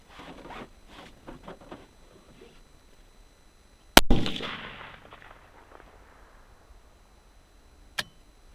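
A 6.8 Western rifle loaded with 60.9 grains of powder fires one loud, sharp shot with a decaying boom. Faint background noise comes before it, and a second short, sharp crack follows a few seconds later.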